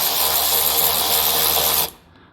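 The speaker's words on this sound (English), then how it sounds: "This little ratchet thing I've got here makes quite a bit of noise." A small hand ratchet works bolts loose on the lower front chassis brace of a Mazda MX-5 ND, giving a loud continuous rapid clicking buzz up close that stops abruptly near the end.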